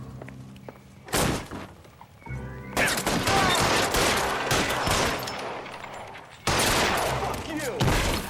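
Loud bursts of gunfire from an L.A. Noire shootout, including shotgun blasts, come in sharp cracks and sustained volleys with brief lulls between them, and a voice cuts in now and then.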